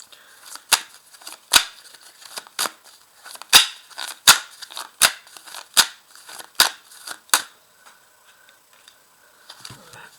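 Tarot cards are shuffled and cut in a series of about a dozen sharp, crisp snaps at roughly even intervals. These slow down and fade into quiet rustling at the end.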